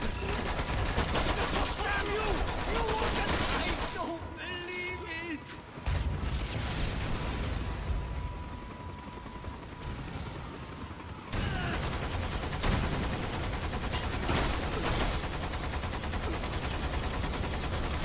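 Sustained machine gun fire in the action shooter Lost Planet 2, loud rolling bursts filling most of the stretch with a brief drop in the middle, while players talk over the shooting.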